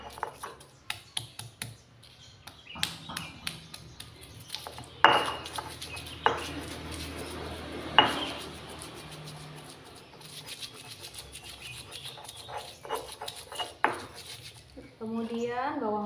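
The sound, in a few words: grinding spice paste for sambal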